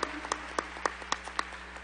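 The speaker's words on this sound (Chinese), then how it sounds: "给我们每一个人的导师和介绍人来一个感恩的掌声" Audience at a large 2016 Amway conference gives a round of applause: sparse, evenly spaced sharp claps about every quarter second, fairly faint and without talk.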